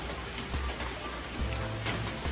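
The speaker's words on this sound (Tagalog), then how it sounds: "Patilahin ko muna yung ulan." Steady rain falls as a continuous, dense hiss with occasional heavier patters, close and even throughout.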